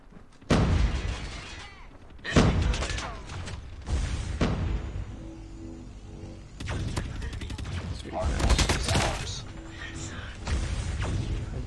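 A PPSh submachine gun firing in a video game, several loud rapid bursts of automatic fire in separate spurts, with someone talking over the gaps between bursts.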